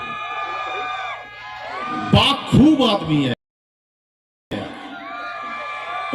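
A lively Punjabi audience cheers and whoops joyfully at a live comedy show, with bursts of shouting over a man's speech, a sudden silent gap, then continued chatter and crowd noise.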